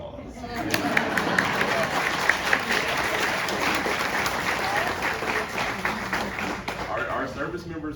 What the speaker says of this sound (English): I think that's worth of applause.